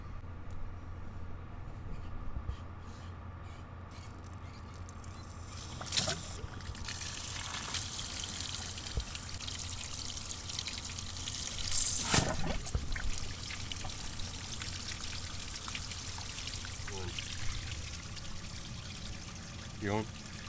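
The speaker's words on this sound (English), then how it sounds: "we're gonna see some water shoot out of this pipe right here" Water from a garden hose flushes out of a heater core pipe on a Dodge Ram with a 6.7 L Cummins, a steady pouring, trickling rush running throughout at moderate level with a few louder splashes.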